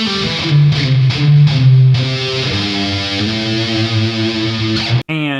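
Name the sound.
electric guitar lead tone, bridge pickup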